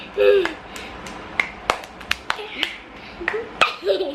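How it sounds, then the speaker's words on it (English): A baby girl claps her hands toward a camera, a string of sharp, close, irregularly spaced claps, with brief baby vocal sounds between them. "She just wanna look in the camera and clap."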